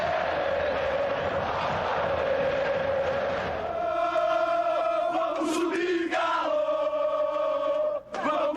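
Atlético-MG supporters fill the Mineirão stadium for a Série B match, a huge crowd chanting and roaring in unison, steady and loud with rising sung tones.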